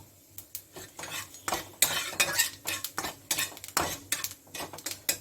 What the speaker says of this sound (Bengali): কালো জিরা ফোড়ন দিয়ে দিয়েছি